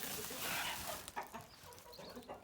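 Chickens cluck softly in the background amid faint rustling, a few short bird calls rising over steady outdoor noise.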